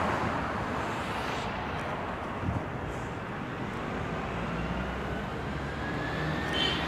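Street traffic on a busy road, a continuous broad rumble of passing vehicles at middle distance, swelling and fading gently, with no talk over it.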